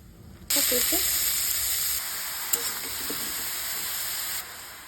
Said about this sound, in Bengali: এখন তেলের উপরে জিরা, তেজপাতা, শুকনো মরিচ দিয়ে দিলাম